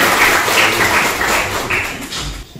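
An audience at a poetry evening claps to welcome a poet, a dense spread of many hands that fades near the end.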